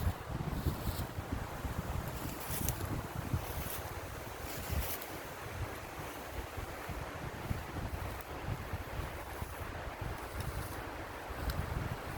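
Wind blowing outdoors in Swedish forest countryside, a continuous low buffeting roar that rumbles against the microphone and swells in gusts over twelve seconds, with no talking.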